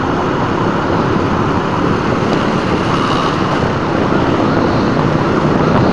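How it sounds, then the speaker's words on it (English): Loud, steady roar of traffic heard from a motorcycle, with an ambulance siren wailing buried in the mix, continuous throughout with no speech. "Ambulance."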